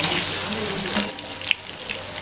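Thin-cut potato slices fry in oil left over from frying fish, a steady hissing sizzle with some watery crackle that eases off partway through, broken by a brief clink of stirring near the end.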